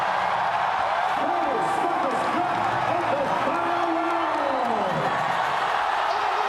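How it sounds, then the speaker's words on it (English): Arena crowd at an MMA fight in Manila roaring steadily to rally Belingon, a dense continuous wall of cheering with rising shouts under loud commentary. "This crowd trying to rally Bellingon home."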